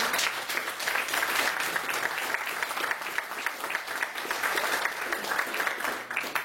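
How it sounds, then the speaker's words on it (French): An audience claps steadily, a dense, sustained round of applause at moderate volume from a fair-sized crowd. "on va applaudir très très fort Rachel."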